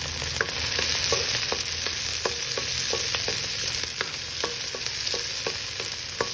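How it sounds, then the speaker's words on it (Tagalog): Onion sautés in a pan with a constant crackling sizzle, broken by repeated sharp clicks and scrapes of a utensil stirring against the metal at close range. "Saute the onion."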